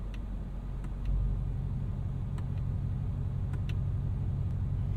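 A Ford Mustang GT500 engine and exhaust with the valves opened in track mode gives a steady, deep rumble close by. It swells slightly after the first second and then holds unbroken to the end, with no talking.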